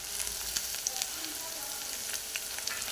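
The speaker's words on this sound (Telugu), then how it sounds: "ఇవన్నీ వేసి కొంచెం ఫ్రై అవ్వనివ్వాలి." Onions, green chillies, curry leaves, coriander and potato frying with mustard seeds in a pan make a steady sizzle close by, dotted with faint crackles and light stirring taps.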